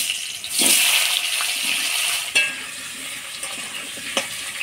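Potatoes are stirred in oil tempered with dried red chillies, bay leaves and whole cumin, giving a bright, close sizzle with three sharp stirring scrapes spread across a few seconds.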